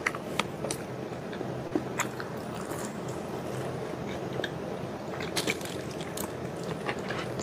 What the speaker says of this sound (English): she's digging in, still chewing the last bite